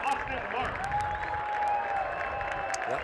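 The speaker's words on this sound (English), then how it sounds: "deserves the applause he's getting from the crowd, Austin Martz" Crowd at a Saint Louis FC vs Reno 1868 FC soccer match applauding as Austin Martz is substituted off, steady distant clapping in a stadium, with a commentator talking over it.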